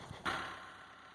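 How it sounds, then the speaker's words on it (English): A Mahindra 2638 tractor engine idles steadily while warming up, a low continuous rumble that follows a brief louder onset and holds at a moderate, even level with no talk. "get the tractor warmed up"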